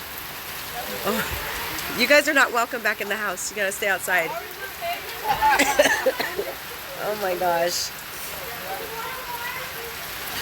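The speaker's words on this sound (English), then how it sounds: "This is today's weather in Hawaii. It's a thunderstorm." Thunderstorm rain in Hawaii falls as a steady hiss on outdoor surfaces beneath someone talking excitedly over it for most of the time.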